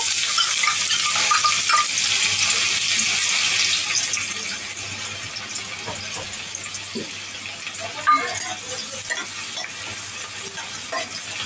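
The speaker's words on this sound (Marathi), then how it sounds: "आता तेल गरम झालेलं आहे, त्याच्यामध्ये मी कांदा टाकून घेते." Onion drops into hot oil and sizzles loudly at first. The hiss settles to a steadier, quieter fry after a few seconds, with occasional stirring clicks.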